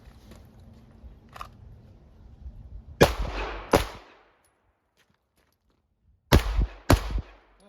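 Pistol shots during beginner target-shooting training outdoors, four loud sharp reports in two closely spaced pairs, each ringing out briefly, with quiet handling noise before the first pair.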